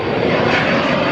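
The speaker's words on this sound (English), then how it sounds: "Another plane taking off." An airplane takes off from an airfield where a private jet and car meet is being held, its engine roaring loud and steady throughout, with a voice faintly under it.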